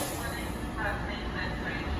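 A WMATA Metrorail 3000 series train on the Silver Line pulls out of East Falls Church station with a steady, loud rumble and broadband hiss.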